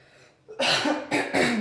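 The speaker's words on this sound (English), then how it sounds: "Excuse the cough." A short burst of coughing, two or three harsh coughs close to the microphone, coming right after a quiet moment.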